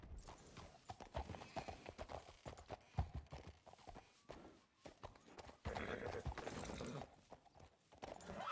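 Horse hooves clip-clop steadily in the western game Red Dead, a close, continuous patter of a walking or trotting horse, with a brief whinny-like sound and game ambience around it.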